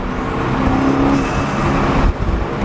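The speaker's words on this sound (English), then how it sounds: "It seems like at lower RPMs I get more of the flutter, but it's mostly prominent in first gear when I'm accelerating." A BMW F30 fitted with a Go Fast Bits diverter valve, its engine droning steadily with a rising high-pitched whine and a short flutter burst near the end, loud and close with no talking.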